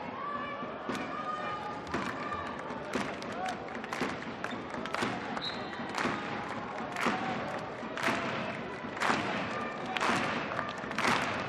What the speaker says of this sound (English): Crowd expectant, wanting Germany to defend their championship.